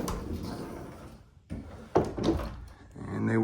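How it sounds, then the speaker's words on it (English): Double sliding closet doors in a house roll along their tracks, with several scraping glides and a couple of soft bumps, close and moderately loud amid room noise. "Let's see how these doors slide."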